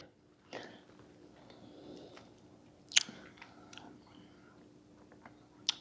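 Someone quietly tastes raw zucchini cake batter made with egg and cinnamon, with soft close chewing, a couple of faint smacks and small sharp mouth clicks in a hushed room.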